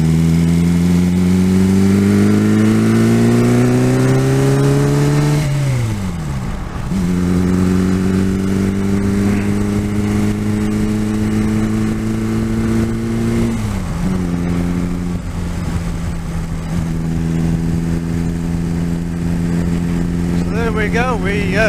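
Reliant 750 trike engine accelerating along the road, loud and close, with revs climbing through the gears and dropping briefly at each of two shifts before building again.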